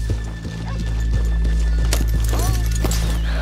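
Horses in Red Dead Redemption 2 clip-clop steadily on a town street, hooves tapping in a loose rhythm over a constant background hum, with a brief whinny partway through.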